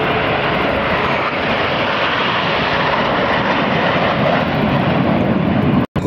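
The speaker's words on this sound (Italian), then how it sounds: "calano man mano i giri del motore, lui sente l'aria farsi sempre più pesante sul musetto del suo MB339" Frecce Tricolori MB339 jet at the Pratica di Mare airshow, a loud, steady broadband engine roar sustained throughout with no talk over it, ending in an abrupt cut.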